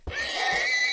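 A horse dies in the Minecraft video game, letting out one loud, strained, wavering whinny-like cry that lasts about a second.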